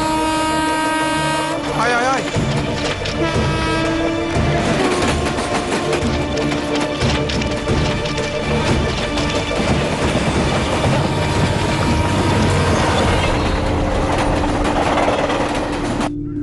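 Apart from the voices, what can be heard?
train approaching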